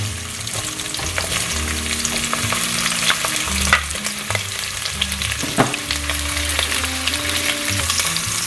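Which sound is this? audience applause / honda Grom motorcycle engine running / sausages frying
sausages frying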